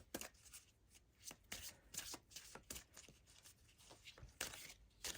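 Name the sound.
shuffling tarot cards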